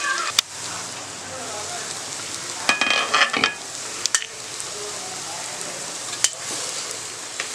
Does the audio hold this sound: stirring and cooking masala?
yes